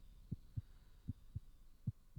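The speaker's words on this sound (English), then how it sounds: "I can hear a heartbeat." A heartbeat in the video game The Cat Lady thumps as soft, low double beats repeating at a steady pace, faint and muffled over a quiet hum, with no talking.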